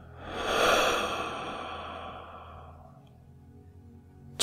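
A single deep, slow exhale during guided breathing meditation, swelling then fading out over a few seconds in a quiet room.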